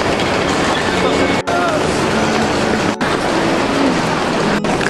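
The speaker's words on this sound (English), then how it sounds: "I think that's literally our train" Rumbling noise of a train arriving at a platform in Poland, with a broad steady roar, a few sharp clunks and faint squeals as it rolls in, with indistinct voices nearby.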